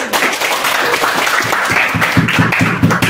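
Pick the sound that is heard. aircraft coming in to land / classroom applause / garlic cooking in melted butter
classroom applause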